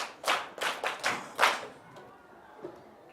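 A group of schoolchildren in a Ghanaian classroom claps for themselves in about five quick, fairly close bursts, then the clapping fades into quiet room noise with a faint knock.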